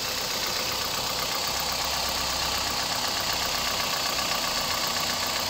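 A Toyota Vios engine idles smoothly, a steady even hum running without a break at close range with no talking.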